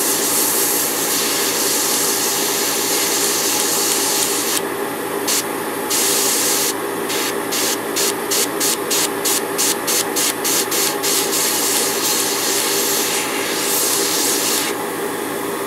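An airbrush spraying yellow paint inside a Gundam model kit part, a loud continuous hiss of compressed air with bursts of sharper spray pulsing on and off, close up with no talk.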